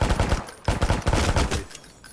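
Bursts of automatic gunfire in the VR shooter Alvo, loud rapid volleys in two clusters with a brief gap between, close and punchy, tailing off toward the end.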